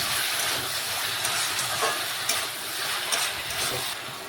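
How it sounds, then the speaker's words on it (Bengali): Water poured into a hot pan of fish head curry with ridge gourd and potato, giving a steady broad hiss and sizzle with a few faint clinks, close and continuous throughout. "এখন আমি পরিমাণ মতো আবারও জল দিয়ে দেব।"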